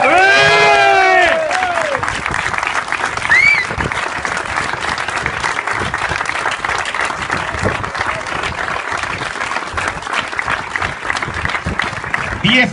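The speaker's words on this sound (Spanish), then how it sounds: "Fuerte el aplauso para los vencedores absolutos." A crowd applauds the overall winners of the 10th Baja Almanzora rally, with loud sustained clapping and scattered cheers. A brief whistle-like tone opens the passage, and someone speaks over the applause.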